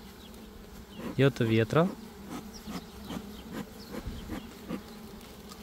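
Honeybees buzz around a hive while frames are being set in, a loud close burst of buzzing early on and then lighter scattered buzzing, with brief speech near the end.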